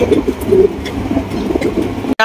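A red checker racer pigeon coos in low, soft repeated phrases at close range, with steady background murmur and a brief dropout near the end.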